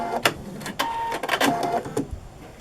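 Sewing machine stitching a seam on a Rob Peter to Pay Paul quilt block, heard as short, irregular bursts of mechanical whirring and clicking, close by and moderately loud, with no talking.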